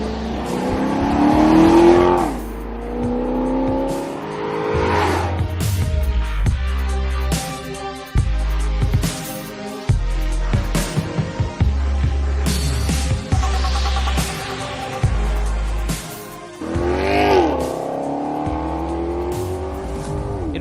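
A loud Ferrari-derived 4.7-litre V8 in a Maserati GranTurismo MC Sportline revs hard repeatedly, climbing and dropping through gears with sharp throttle blips and pops between pulls.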